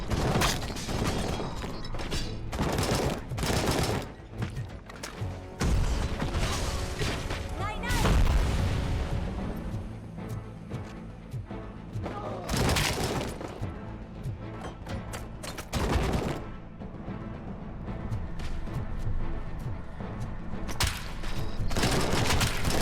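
Assault rifle bursts and grenade blasts from the RoboCop Rogue City video game crackle in dense volleys with heavy booms, loud and sustained, separated by short lulls.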